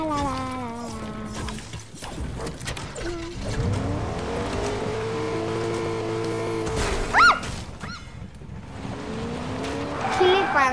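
Car in a video game driving with a continuous engine hum and squealing tires in brief skids, while someone talks and reacts over the game sound throughout.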